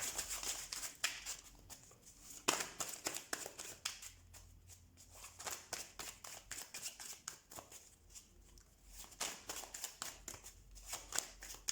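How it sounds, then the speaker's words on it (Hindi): Tarot cards being drawn and handled from a deck, a steady run of crisp papery flicks and slides at close range with a faint background hum, no talking. "पहले मैं सारे कार्ड्स निकाल लेती हूँ"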